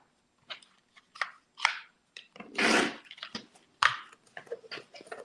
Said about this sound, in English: And then you can use your 60mm rotary cutter to trim that.